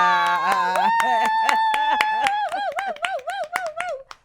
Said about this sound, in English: Why are we clapping?